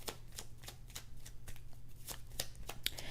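A deck of tarot cards is shuffled close up during a reading, with a steady run of soft riffling flicks and taps at a fairly quiet level and no speech.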